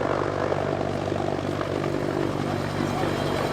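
A Westland Whirlwind HAR-10 helicopter with a Bristol Siddeley Gnome turboshaft engine, at an airshow, gives a steady, loud turbine and rotor drone that runs unbroken for the whole stretch, with no other sound over it.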